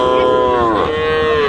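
A Sahiwal cow or calf at a livestock market gives one loud, close, drawn-out moo that bends downward in pitch midway and holds steady to the end, with no talk over it.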